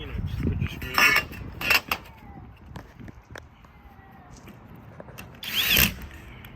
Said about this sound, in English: You go a 1/4 inch inside of the line on both sides, and just put your screws in.